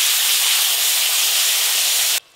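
Spiced paste of ginger, cumin and chilli with onion and tomato hisses and sizzles steadily in a hot pan after a splash of water, a loud continuous sputter that cuts off near the end.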